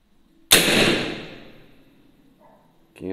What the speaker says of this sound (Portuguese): Vamos dar um disparo em alta.